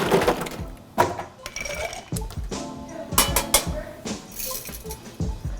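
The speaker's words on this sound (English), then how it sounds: "we're then going to add some ice, stir it" Ice clinks and rattles against the walls of a metal stirring tin as a cocktail is stirred, a busy run of close, bright chinks and clatters with a few sharper knocks.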